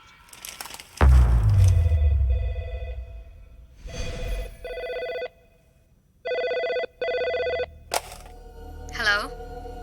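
A telephone bell rings in repeated short bursts during a tense film scene at a house being raided, mixed with a heavy thud, other sharp effects and voices around the rings.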